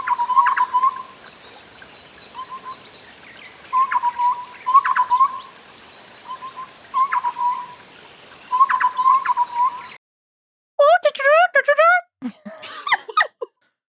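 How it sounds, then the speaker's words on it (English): A bird sings in short, repeated whistled phrases that seem to double back on themselves like an echo, loud and close. A pause follows, then a brighter burst of rapid chirps. "let's listen to this fucking bird"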